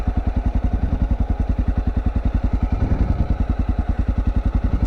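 Honda XR650L motorcycle engine laboring up a steep hill with the front wheel slipping, a close, loud, rapid thumping single-cylinder pulse holding steady throughout.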